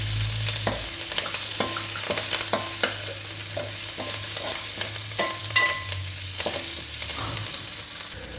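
Dried red chillies, green chillies and curry leaves fry in hot oil for semiya pulihora, giving a constant loud sizzle broken by repeated scraping stirs of a spoon against the pan.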